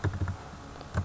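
Fingers typing on a computer keyboard while entering shipping options into an Excel spreadsheet, a short burst of quick clicking keystrokes with a brief pause before a final cluster, close and fairly quiet.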